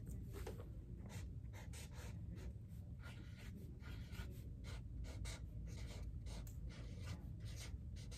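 A pencil or pen writes by hand on paper, giving a close, continuous scratchy rasp with short strokes and brief pauses between letters.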